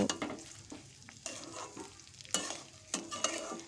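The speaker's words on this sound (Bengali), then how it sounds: "কাজু কিশমিশটাও আমি হালকা করে ভেজে নেব" Metal utensil scraping and stirring cashews and raisins in a pan, with sharp clinks and a light sizzle of frying, in intermittent bursts close by.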